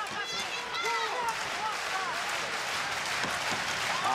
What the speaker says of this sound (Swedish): Snacka om att tända sin publik. Nu hör man publiken.